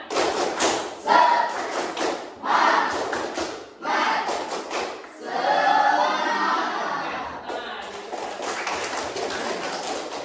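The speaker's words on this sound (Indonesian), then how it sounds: "Sekali lagi, tepuk semangat." Schoolchildren in an Indonesian classroom repeat a spirit clap, several rhythmic bursts of clapping and thudding with group chanting mixed in, close and lively, ending in a longer sustained stretch of clapping.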